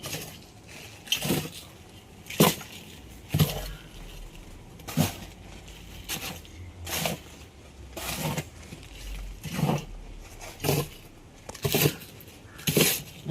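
Potting soil being mixed with sand, coir pith, bone meal and neem cake for repotting adenium, heard as a series of separate scraping, gritty crunches at a steady, roughly one-second rhythm, fairly close.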